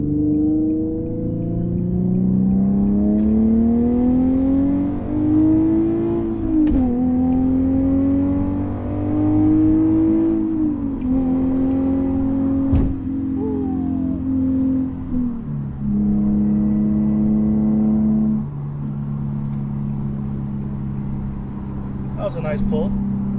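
Infiniti G37 with stock headers and a Motordyne exhaust pulls hard up an interstate on-ramp, its engine note climbing steadily through several gear changes from inside the cabin, loud and continuous with a brief lull between shifts.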